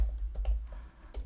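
Quick, light clicks of typing on a computer keyboard, a few soft keystrokes in close succession, faint and alone.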